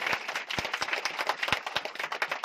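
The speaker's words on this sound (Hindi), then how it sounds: "तालियां दोस्तों" An audience at a Sunday sales seminar gives the seminar leaders loud, sustained applause, with dense clapping throughout and a few sharper individual claps standing out near the front.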